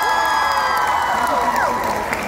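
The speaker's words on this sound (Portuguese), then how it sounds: "Uma salva de palmas de novo pra Bárbara!" Audience at a Korean culture festival in Brasília applauding and cheering, a dense sustained wash of clapping with whoops mixed with music tones running throughout.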